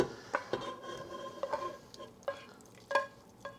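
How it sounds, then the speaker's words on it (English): Lean 90% hamburger meat browns in a pan while a spatula stirs and scrapes it, giving a soft sizzle broken by several sharp clinks and taps, with no talking. "We've got our hamburger browning right now."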